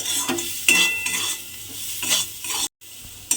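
Okra is stirred with turmeric and chili powder in a frying pan, giving repeated scraping strokes of a spatula over a soft sizzle, close and fairly loud, with a brief silent gap near the end.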